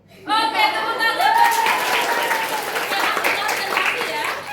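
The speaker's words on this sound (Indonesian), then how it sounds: "Oke, tepuk tangan." Students in a vocational high school classroom break into applause, a steady wash of clapping that rises quickly and carries on with voices mixed in.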